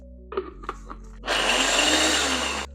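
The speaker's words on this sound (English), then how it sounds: "I'm going to be adding them to my mixer." Mixer grinding toasted walnuts: a few knocks and clatters first, then a loud, steady whirring grind that runs for about a second and a half before cutting off abruptly.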